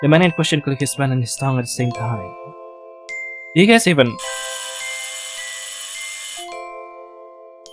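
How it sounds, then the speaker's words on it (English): A doorbell rings after a narrator speaks, sounding as a sustained electronic chime with layered ringing tones that hold and then fade, heard alone without talk once the speech stops. "That was the doorbell."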